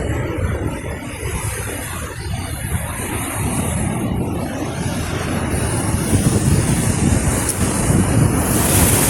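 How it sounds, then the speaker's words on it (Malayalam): Rough, stormy sea pounding a harbour breakwater where fishing boats wait, a loud continuous roar of crashing surf mixed with wind buffeting the microphone, no voices. "ഇത്രയ്ക്കും രൂക്ഷമായി കിടക്കുകയാണ് കടൽ ക്ഷോഭം."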